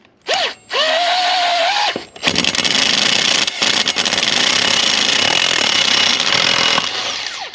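A CVTECH clutch on a 450 is being removed with a clutch puller turned by a 19 socket on a power tool: a loud, close, buzzing mechanical whir that runs in long bursts with short breaks, with no talking.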